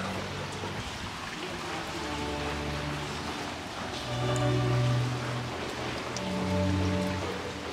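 Steady rain falls on a street in Venice, Italy, a soft, continuous patter of drops heard up close, with faint tonal background hums rising and falling beneath it.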